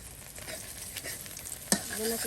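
Eggs frying in a pan at a home cooking fire, a soft steady sizzle with a sharp clack of a utensil partway through and occasional stirring scrapes.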